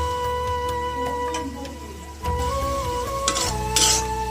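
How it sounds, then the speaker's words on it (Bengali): Onion and garlic fry in a pan with soft sizzling, while a utensil stirs and scrapes against the metal under a steady background hum. "এখন পেঁয়াজ রসুনটা ভালো করে ভেজে তারপর আমি দিয়ে দিব।"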